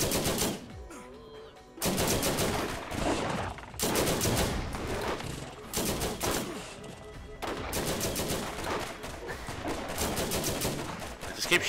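Combat rifle fire in the video game Borderlands, dense bursts of shots recurring across the clip in a loud, continuous game mix with brief gaps between volleys.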